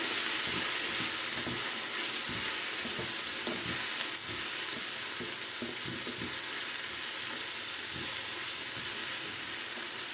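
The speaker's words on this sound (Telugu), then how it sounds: "మనం రోజ్ పెటల్స్ వేసుకున్న తర్వాత ఒక 5 మినిట్స్ ఫ్రై చేస్తే సరిపోతుంది" Rose petals frying in a pan of home-style biryani masala, a steady soft sizzle running throughout with occasional stirring scrapes, close and alone with no voices.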